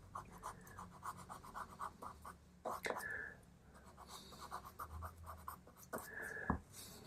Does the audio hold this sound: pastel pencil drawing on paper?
yes